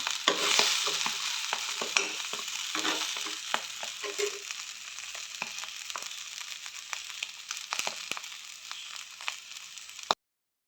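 Clam meat fries in a pan with a steady sizzle while a utensil scrapes and stirs in repeated sharp strokes, the stirring thinning out toward the end.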